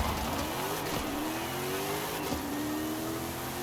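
A car engine in Forza Horizon 5 holds a steady, loud drone as it drag races, pitch sweeping upward through gear changes with brief dips near one and two-and-a-half seconds.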